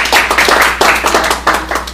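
Audience clapping for the enforcers at a Franklin TDA event, a dense, loud burst of many hands with uneven surges, close and continuous for two seconds.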